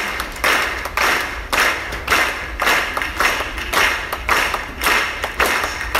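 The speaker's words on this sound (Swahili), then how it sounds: "Ongeza makofi kwa haraka wakati tunarudi kwenye viti vyetu" A church congregation claps fast and steadily in unison while people return to their seats, a dense rhythmic crowd clap filling the room with no talking over it.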